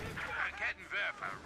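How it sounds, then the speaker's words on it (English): A Panzer tank fires its cannon at point-blank range in the strategy game Company of Heroes 2, giving several quick booming shots in succession, fairly faint and mixed with other battle noise. "Panzer is firing away at point blank as well."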